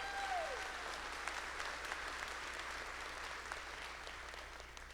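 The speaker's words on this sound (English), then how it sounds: "Please join me in a round of applause to thank these faculty members for their service today." Commencement audience applauding faculty marshals at a college graduation ceremony, a steady wash of clapping from a large crowd that holds evenly through the whole stretch, with a brief voice at the very start.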